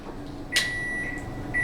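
A kitchen microwave oven gives a single sharp electronic beep followed by a steady tone that returns briefly near the end, clear and close over quiet room noise.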